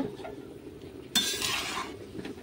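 Spices are stirred into a curry cooking in a pan. After a quiet moment, a sudden loud scrape of a spoon starts, followed by a continuous rasping stir with a soft sizzle underneath.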